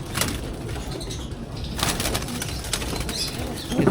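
Breeding pigeons kept for pairing, parent birds in a loft, flap their wings in brief bursts and coo softly nearby amid a busy, rustling background.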